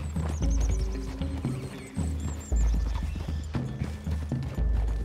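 Horses trotting in Red Dead Redemption 2, with a steady close clip-clop of hooves, a whinny, and faint mechanical rattles over a game soundscape, without speech.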